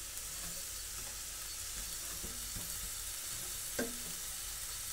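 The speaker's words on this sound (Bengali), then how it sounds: "এভাবে আমি আরো 4-5 মিনিট ধরে নাড়িয়ে নিলাম" Cabbage fries quietly in a pan as it is stirred, making a soft, even sizzle with a few faint scrapes and taps.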